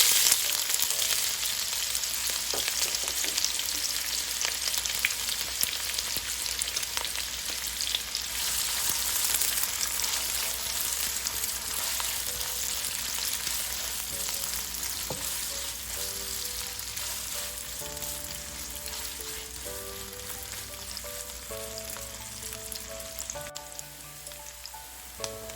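A large onion frying in hot oil with fenugreek and cumin seeds for a Nepali chicken curry, a steady close sizzle with crackling pops that softens slightly over time, with faint tonal sounds in the background late on.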